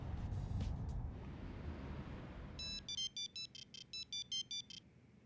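A telephone rings with an incoming call after a wash of ambient noise fades, giving a run of bright electronic ringtone pulses in quick regular bursts, close and clear.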